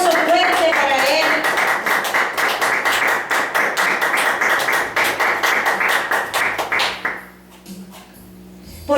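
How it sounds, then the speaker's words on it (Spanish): A church congregation claps together in quick, loud rhythmic beats for about seven seconds, then the clapping stops abruptly, leaving a quieter room with a low hum. "Un aplauso fuerte para Él."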